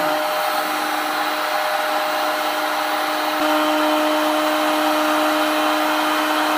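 Heat gun blowing hot air onto PVC pipe while it is bent into a bow, a steady loud electric whoosh with a constant whine that continues without pause.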